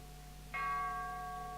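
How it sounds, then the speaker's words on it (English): One bell in a Japan-themed video game is struck once, sounding a clear, resonant tone that rings on and slowly decays over a faint background hum. "let's ring the dang bell"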